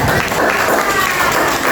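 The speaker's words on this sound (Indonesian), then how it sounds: "kasih tepuk tangan untuk kelompoknya" A classroom of students claps for a group of classmates, a steady wash of many hands applauding together at close range throughout the short burst.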